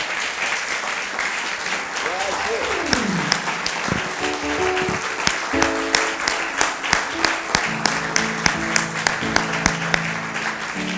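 A church congregation applauds loudly to acclaim the Lord, steady rhythmic clapping that sharpens into a regular beat, with a voice and sustained musical tones sounding over it.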